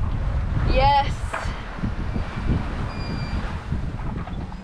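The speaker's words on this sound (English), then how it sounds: "I can hear the water and the waves and the wind and the boat" Strong wind buffets the microphone on a sailboat over a low rumble of moving water and waves, with a brief spoken word and faint tonal beeps early on.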